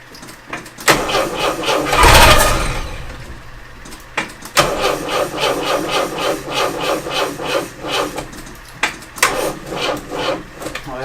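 A vintage Peugeot J9 van engine cranks with a rapid, strained starter whir, pauses, then cranks again and catches into a rough, loud running idle close by, without talk.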